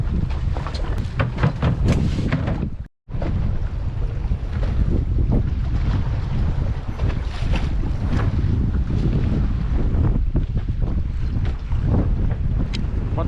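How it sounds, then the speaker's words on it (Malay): Strong wind roars continuously across a small fishing boat at sea in the late afternoon, gusting against the microphone with waves and water noise beneath, loud and steady apart from one brief dropout. "angin datang, angin agak kencang lah"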